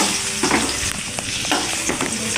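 Whole okra pods sizzle steadily as they sauté in hot oil, a dense close crackle with a few soft scrapes of stirring and no talk.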